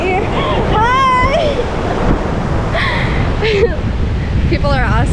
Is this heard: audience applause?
no